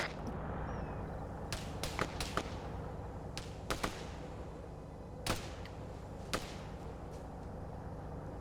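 Sharp, sparse video game rifle shots crack out at irregular intervals over a steady low background hum, some in quick pairs, others isolated and distant.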